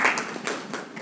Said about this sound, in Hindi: एक बार जोरदार तालियां हो जाए उनके लिए, कम ऑन एवरीवन.